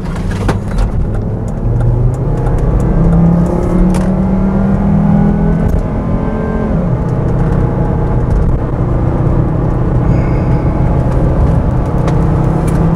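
A 200,000-mile P2 Volvo XC90 with the 2.5T engine accelerates, its engine drone and road roar loud and steady from inside the cabin, pitch shifting gradually as it pulls, with no talking.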